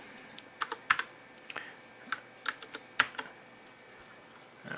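Keys clack on an Apple IIGS computer keyboard in a run of about ten sharp, separate strokes at an uneven pace, fairly close and clear against a quiet background.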